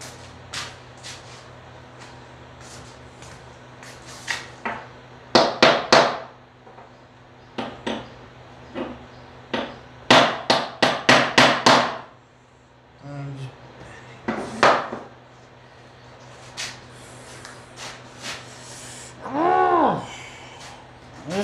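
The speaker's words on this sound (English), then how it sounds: "Let me get a hammer." Hammer strikes on a red and white acrylic pen come in scattered bursts of sharp taps and clattering knocks, some in quick clusters and others single, with quiet gaps between them.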